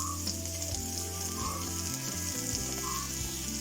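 Onion frying in a pan with ginger and green chili, a steady close sizzle heard under background music for a few seconds.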